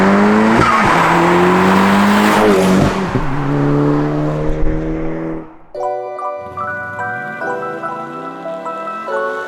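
A 380bhp Audi TTS track car brakes hard, its engine note dropping through loud harmonic tones while tyre squeal and skid noise build, then the engine cuts back and burbles at lower revs.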